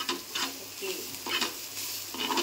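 Grated coconut dry-roasting in a pan for a Konkan crab curry masala, stirred in steady scraping strokes with a soft sizzle underneath, close and moderately loud with no talk.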